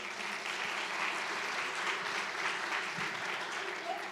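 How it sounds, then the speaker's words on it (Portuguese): Congregation applauding during a church service: a steady, sustained wash of many hands clapping together, soft and somewhat distant, lasting several seconds without pause. "vamos aplaudir o Senhor"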